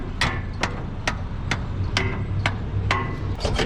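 Repeated sharp smacks of a plastic mallet or tool against a part of a 1961 Chevy wagon, about eight evenly spaced hits over a low engine-like rumble, loud and close.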